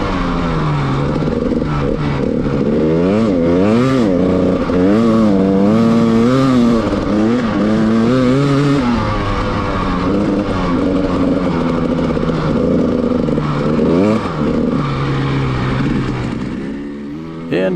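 A snowmobile engine revs hard on a firm, packed snow trail in the woods, loud and close, its pitch sweeping up and down repeatedly through sustained acceleration.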